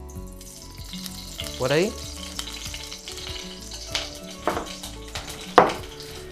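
Olive oil sizzles in a frying pan with a soft continuous hiss, broken by a few sharp pan and utensil clinks, and one voice speaks briefly nearby.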